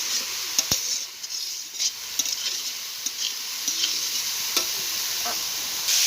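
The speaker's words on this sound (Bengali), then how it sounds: "আলুটা দিয়ে এবার ভালো করে নাড়বো আমি।" Potato stirred into banana flower (mocha) curry in a pan, with steady sizzling, scraping and clinking of the spoon against the pan, no talking.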